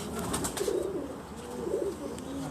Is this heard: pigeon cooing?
yes